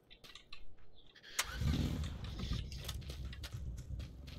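A buggy's engine starts up in PUBG, with a brief rattle before it catches and settles into a steady mid-pitched idle that runs to the end, fairly close.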